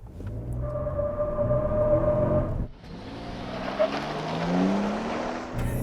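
A 2022 Toyota Tundra TRD Pro hybrid pickup accelerates at full throttle, its engine note rising through a gear, dropping briefly at the upshift, then climbing again loud and close.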